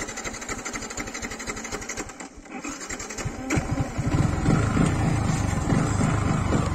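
A Yamaha MT-15 BS6 motorcycle engine runs close by with a rapid mechanical chatter, dipping briefly before rising into a louder, heavier steady drone toward the end.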